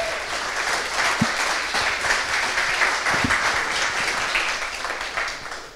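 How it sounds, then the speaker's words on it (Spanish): Audience applauding presenters at a startup demo day, sustained, dense clapping from a crowd in a hall, steady and fairly loud with a couple of sharper claps standing out. "Recibimos con un fuerte aplauso a Federico Jalife, Franco Olmos y Vicente de"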